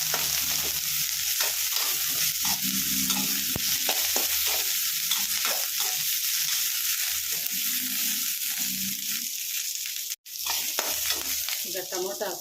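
Ingredients for tomato chutney fry in a pan with a steady close sizzle, while a spatula scrapes and stirs in repeated bursts, and one sharp knock sounds near the end.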